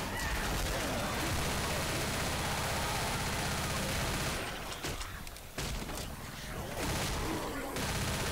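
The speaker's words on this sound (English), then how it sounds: "I'm just going to sit here firing the hell out of it." Sustained automatic weapon fire in the zombie video game Left 4 Dead, a dense loud barrage that dips briefly midway before resuming, with game noise mixed in.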